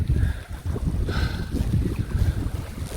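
Wind gusting across a seaside fishing spot at Mijo in Namhae, South Korea, buffeting the microphone with a steady, loud, low rumble that continues for the whole stretch, with no talking.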